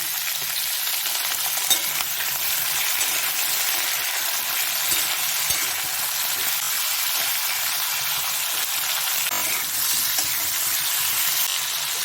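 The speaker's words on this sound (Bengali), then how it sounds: "আলুগুলো একটুখানি ভেজে নেব যেহেতু টাইম লাগে" Salted potatoes fry in a pan, a loud, continuous close sizzle with occasional stirring, steady throughout and free of any voices.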